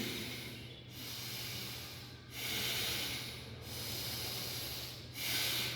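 Slow, deep yoga breathing during a back-strengthening routine: long rushing inhales and exhales in a steady cycle of about three breaths, close and fairly loud, with a faint low hum underneath and no talking.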